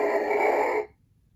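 An interactive Smithsonian dinosaur toy plays its Oviraptor call, a short raspy electronic cry under a second long that cuts off abruptly into quiet.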